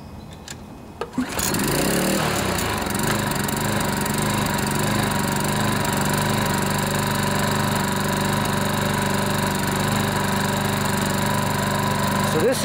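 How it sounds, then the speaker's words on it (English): A Toro TimeMaster two-blade push lawnmower engine catches after a short pull and settles into a loud, steady idle, humming evenly close by with no one speaking. "This engine is set up to idle like this when you start it"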